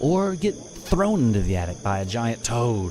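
Crickets chirp in a steady, continuous forest night ambience, heard under a person talking throughout.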